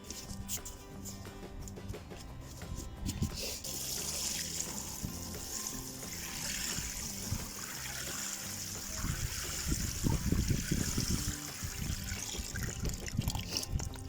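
Water trickles and fizzes into freshly watered garden soil over sown carrot seeds in a Cape Town garden, a continuous close hiss and dribble that swells slightly toward the end, with no talking.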